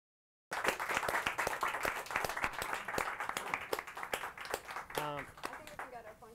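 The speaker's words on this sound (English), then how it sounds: "Can everyone give Andy a round of applause?" Applause from a studio audience at a television show, dense clapping that starts abruptly and keeps going for several seconds, with voices and cheering mixed in toward the end.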